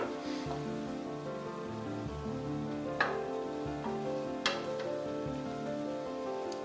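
Leeks, mushrooms, carrots and onions sauté in a pan with a steady, soft sizzle, broken by a couple of sharp clinks of a utensil against the pan.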